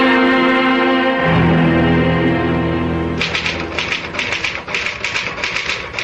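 A typewriter clatters in a vintage 1974 radio drama, a rapid run of loud, close keystrikes following a sustained tonal passage.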